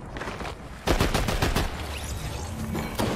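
Rapid bursts of video-game gunfire from a Fortnite match crack out in a loud cluster, then scatter into a few sharper single shots, with no talk over them.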